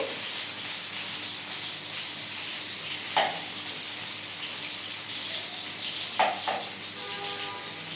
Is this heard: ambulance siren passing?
no